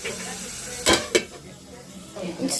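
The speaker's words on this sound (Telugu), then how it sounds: "ఆనియన్స్ ఫ్రై అవుతా ఉన్నాయి కదా సన్నగా" Onions with tomatoes and green chillies frying in a pan, a steady close sizzle with two brief sharp clatters of stirring or utensil contact partway through and another near the end.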